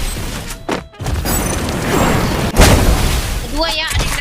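A grenade goes off in the shooter game Free Fire with a sudden heavy boom partway through, trailing into a rough roar, while players talk excitedly over the game sounds.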